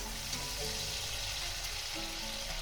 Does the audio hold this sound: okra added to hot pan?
yes